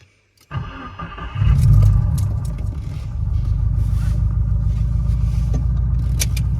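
Tuned Subaru WRX engine cranks and fires with a brief flare of revs, then settles into a steady, low rumbling idle, close and loud with no talk over it.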